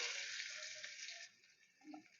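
Chopped onion, ginger and chilli hit hot tempered oil in a Bengali kitchen making singara filling, giving a bright steady sizzle that fades after a moment into softer crackling. The sound is faint and close, with no talking.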